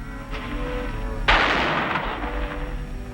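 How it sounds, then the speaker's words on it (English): A single loud gunshot cracks out, then rumbles and echoes away over a low steady background, in an old Western radio drama. "Those shots came from Hidden Valley."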